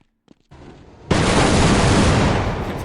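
A laser tripwire explosion in Half-Life, set off by a box crossing the beam: after a few faint clicks, a sudden loud blast erupts and its roar holds steady for nearly two seconds.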